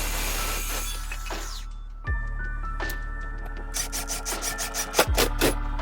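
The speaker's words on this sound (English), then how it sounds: "For the stock, I ended up cutting off a piece of the main board." Wooden board being cut by hand to make a rifle stock, with repeated rasping saw strokes and scraping that grow more rhythmic and louder toward the end, close up with occasional clinks.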